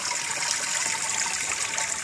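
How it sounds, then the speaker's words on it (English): Dirty water draining out through drilled holes in the bottom of a bucket of gravel, a steady close trickling and splashing that runs the whole time with no pauses. "the dirty water is going to drain out the bottom."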